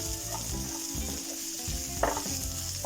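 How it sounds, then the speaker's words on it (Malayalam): Tomatoes sautéing in a pan for spicy egg pasta give a steady, close sizzle, with a brief scrape or clink of stirring partway through. "തക്കാളിയുടെ റോ ടേസ്റ്റ് മാറുന്ന വരെ ഒന്ന് നമുക്ക് വഴറ്റി കൊടുക്കാം."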